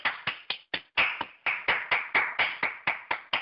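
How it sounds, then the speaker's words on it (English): A small group clapping hands in a crisp, regular rhythm, each clap sharp and distinct, close and fairly loud with quiet gaps between strikes and no talk. "give you guys a round of applause"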